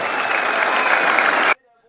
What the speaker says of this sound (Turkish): Celal hocamızın ben burada kendisine tüm Denizliler adına bir teşekkür ve alkış istiyorum.